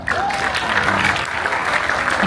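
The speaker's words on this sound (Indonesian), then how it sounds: "Oke, tepuk tangan." A crowd applauds at a high school graduation ceremony, with loud continuous clapping throughout and some voices in the mix.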